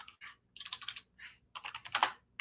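Bursts of rapid typing on a computer keyboard, with clustered keystrokes separated by brief pauses, close and clear with no talking.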